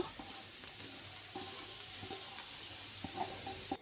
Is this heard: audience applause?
no